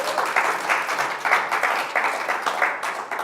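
Audience applause at a spiritual talk, a steady wash of many hands clapping at moderate distance, fairly even throughout with slight swells and no speech over it.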